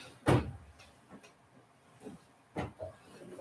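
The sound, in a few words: drawer being opened and closed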